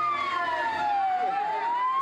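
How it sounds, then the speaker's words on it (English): An ambulance siren wails, sweeping slowly down and back up in pitch, loud and steady over road noise, as the ambulance passes. "An ambulance just drove by"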